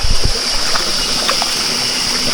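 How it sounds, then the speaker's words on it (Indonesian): Clear river stream on a mountain trail flowing with a steady, loud rushing hiss, close by, with a few low thumps and small splashes near the start and no talk. "Nah, ada sungai guys."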